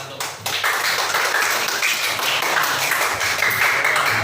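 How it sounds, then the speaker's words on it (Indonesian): Classroom of students clapping for a group, a close, fairly loud patter of many hands with quick uneven taps, sustained throughout with faint voices mixed in. "Tepuk tangan buat kelompok 1."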